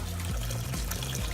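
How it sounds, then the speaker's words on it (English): Water is poured into pots of plant-based lentil soup and bean soup in a home kitchen. It makes a steady, close trickle and splash for just over a second, with no one talking. "now I'm going to add water to both"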